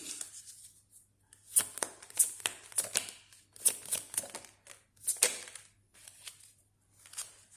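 Romance angel oracle cards are shuffled by hand in bursts of crisp riffling and soft flicking, with brief pauses between rounds and no talking.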